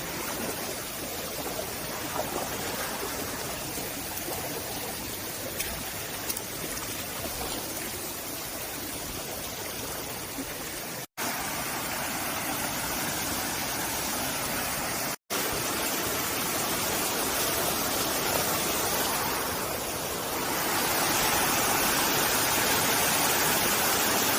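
Waterfall at Pha Sok in rainy conditions, a steady, loud broadband rush of falling water that fills the whole stretch without pause, close by and with no voices over it.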